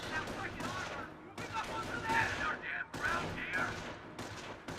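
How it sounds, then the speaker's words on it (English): Satchel charge explosions in the Company of Heroes game, a dense run of booming blasts and gunfire crackle mixed with battle noise, with someone talking over it. "There you go. Satchel charges."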